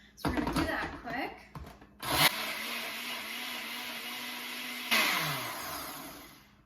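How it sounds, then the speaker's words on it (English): A blender whirs through whole oranges for a punch, starting with rough chopping bursts, then a loud steady motor roar that surges again partway through. "I opted to put all of the fruit of the orange into this blender, and I'm gonna blend it up"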